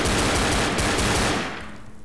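Loud, close automatic gunfire from Left 4 Dead rattles in a dense rapid stream, then thins out and fades toward the end.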